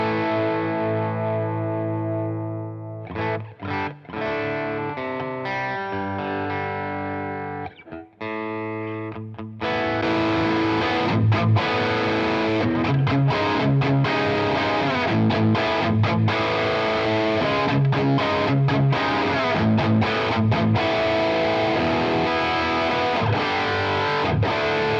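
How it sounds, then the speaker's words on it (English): Electric guitar played through a drive pedal into a Boss IR-2 amp and cabinet simulator, with clean sustained chords first, then loud, dense distorted riffing for the rest, played alone with no talk. "So we've grabbed a drive pedal and we stuck it in the front end."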